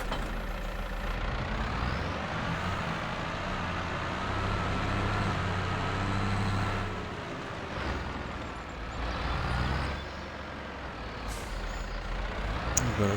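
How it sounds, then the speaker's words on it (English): A tractor in Farming Simulator 22 drives along with a steady, loud diesel engine drone and low rumble, close and continuous throughout, with a few brief hisses and clunks but no talking. "Hop in the tractor."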